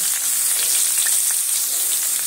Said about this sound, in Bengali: এবার আমি তেলের মধ্যে বেগুনগুলো দিয়ে দিচ্ছি, সাথে দিচ্ছি স্বাদ অনুযায়ী নুন, অল্প একটু হলুদের গুঁড়ো।